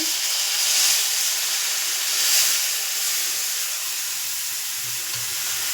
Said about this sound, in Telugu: అదే కప్పుతో మూడు కప్పులు వాటర్ వేసుకుందాము నెమ్మదిగా వేసుకోండి